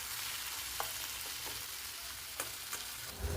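Chopped chillies, two tomatoes, garlic cloves and ginger fry in a pan, a steady broad sizzle with a few sharp clinks of a spoon against the pan, close and alone.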